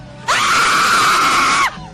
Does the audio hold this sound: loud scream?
yes